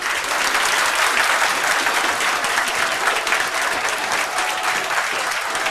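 Steady, dense applause from classroom students at a Springboard Academy RAS toppers session, loud and continuous for about six seconds with no pause.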